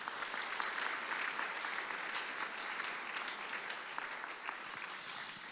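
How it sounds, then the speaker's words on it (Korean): A church congregation claps during a worship service to congratulate a newly married couple. The applause is steady and sustained, heard from a distance at a moderate level, without talking over it. "먼저 축하의 박수를 한번 보내주십시오"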